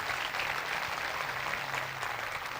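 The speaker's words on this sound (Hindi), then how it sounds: "आओ उस ज़ात के लिए जोरदार तालियां बजाएं" A church congregation at a Christmas sermon gives sustained, fairly soft applause, an even wash of clapping with a faint low hum underneath.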